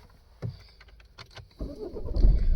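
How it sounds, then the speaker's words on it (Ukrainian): A 2012 Volvo V40 with a 1.6-litre diesel engine: a few quiet clicks, then a short crank catches and the engine settles into a low, rising idle close by. "Давайте спробуємо завести автомобіль"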